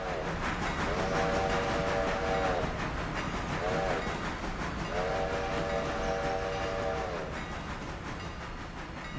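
A train rolls along a railroad line with a constant loud rumble and clatter, while a multi-tone horn sounds in several long blasts over it.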